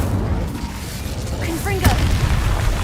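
The Incendio fire spell is cast in Hogwarts Legacy, a short fiery burst and crackle flaring near the middle of a dense, rumbling game soundscape.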